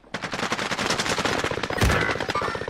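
Rapid automatic gunfire from Call of Duty: Modern Warfare, a dense burst of close, loud shots running almost continuously, with a heavier blast near the end.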